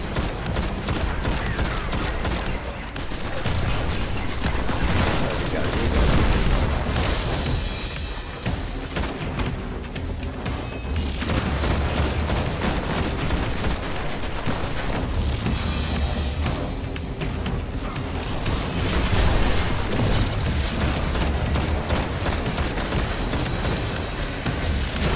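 Sustained video game combat on PS4, dense rapid gunfire and booming explosions pounding almost continuously at close range, loud throughout with no talking.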